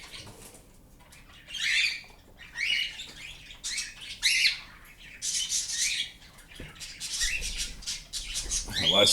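Hand-raised pet bird squawking and chirping in repeated bright bursts, fairly close, with rustling and faint flapping in between and no talk.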